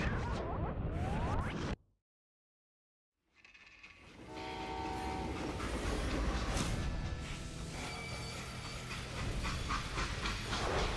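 A freight train in the video game Call of Juarez: Gunslinger: sound cuts out for over a second, then a loud whooshing rumble of the train rises and holds, with sustained horn-like tones partway through.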